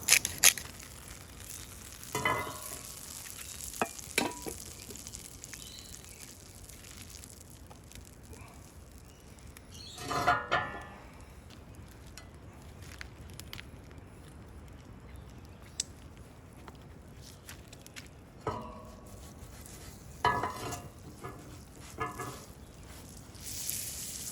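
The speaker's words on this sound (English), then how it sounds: "Now it's time to get some burgers going." Burgers with caramelised onion jam sizzling over a fire, a steady low crackle broken by sharper scraping and clattering bursts from cooking tools, close and moderately loud.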